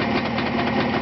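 A rebuilt, upgraded 360 motorcycle engine with a reinforced construction running on its own, giving a steady, rough mechanical drone with a slight knocking pulse throughout a single brief second.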